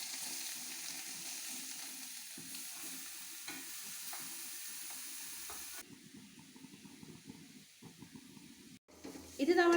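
Grated carrot sizzles in a pan over medium heat, with a continuous hiss and stirring scrapes. The frying sound drops lower partway through and ends in a louder clatter.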